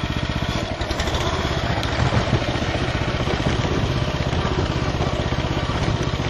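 A KM8 single-axle tractor drives in fourth gear, its engine chugging loud and steady from start to finish, up close.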